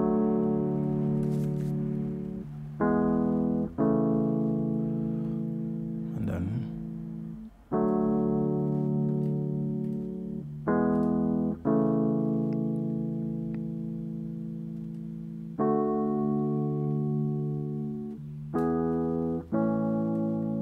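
Electric piano chords made in FL Studio, played in short sustained blocks with brief gaps, warm and mellow, repeating through a steady pattern.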